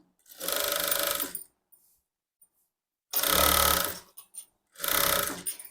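Sewing machine stitching blouse fabric with a single foot, three bursts of fast whirring stitches about a second each with brief pauses between, close and clear.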